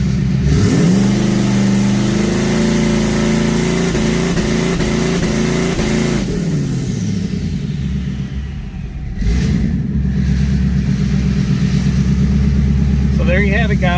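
A 2019 twin-turbo Ford Mustang engine revs hard as the throttle is stabbed to the floor on a launch tune, a loud sustained roar holding high, then dropping back to a rough, steady idle.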